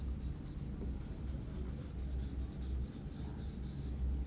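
Marker or chalk writing on a board during a criminal law lecture, a run of short rhythmic scratchy strokes repeating steadily and close by, with no talk over it.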